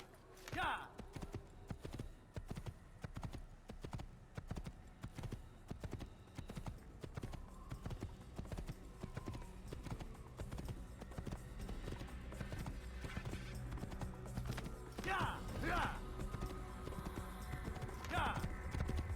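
Rhythmic hoof clip-clop of galloping horses in the video game Assassin's Creed runs steadily throughout, with a few horse whinnies breaking through near the start and toward the end over background sound.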